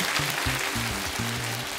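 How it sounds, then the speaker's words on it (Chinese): A studio audience on a Chinese quiz show claps in a steady, dense wash of applause, with a low tonal hum running beneath it. "给我掌声有多少"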